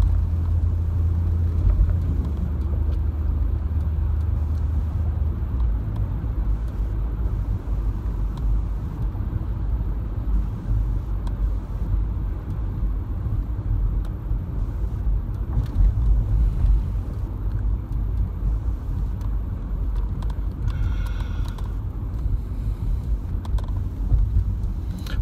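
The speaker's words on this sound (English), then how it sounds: "This traffic is just insane." Dense road traffic rumbles steadily for the full stretch, a continuous low drone of car engines and tire noise with some wind buffeting, heard from within a moving vehicle with no voices.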